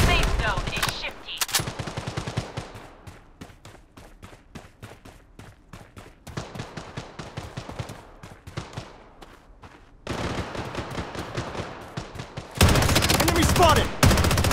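Bursts of automatic gunfire and single shots in the Bloodstrike shooter game, played on an Anbernic RG505 handheld, coming in rapid rattling volleys with short gaps, loudest near the end, alongside in-game voice callouts.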